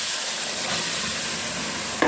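Potatoes frying in a hot pan with turmeric and salt, a steady close sizzle with light stirring scrapes, ending in a sudden brief clatter as more goes into the pan; no talking.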